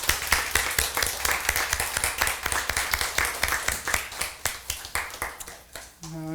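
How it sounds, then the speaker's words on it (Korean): A church congregation at a New Year's Eve worship service claps in a steady rhythmic beat, each clap sharp and close, until the clapping breaks off and a brief musical tone enters near the end. "우리와 함께 달리고 큰 일을 행하신 하나님께 우리 감사와 영광의 박수를 함께 올려드리지 않으시겠습니까"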